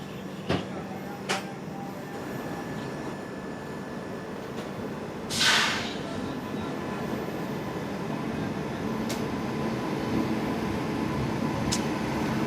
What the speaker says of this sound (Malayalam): അപ്പോൾ മാണ്ഡവി എക്സ്പ്രസ് ജസ്റ്റ് കയറി വരുന്നുണ്ട്.